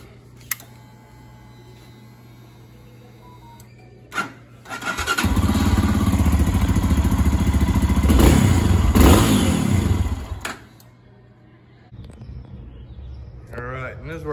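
A fuel-injected Lifan KPX 250 enduro motorcycle idles quietly, then fires and runs loud and steady with revving for several seconds before dropping back to a low idle; faint background noise throughout.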